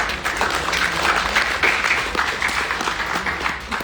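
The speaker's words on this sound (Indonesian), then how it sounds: "Tepuk tangan buat mereka." A crowd applauds steadily and fairly loud at an Indonesian football federation press conference, the clapping sustained throughout with no speech over it.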